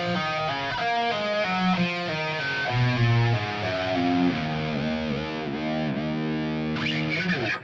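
A distorted electric guitar with a whammy bar plays a guitar solo slowly. Sustained bending notes and slides come loud and close, with no voices.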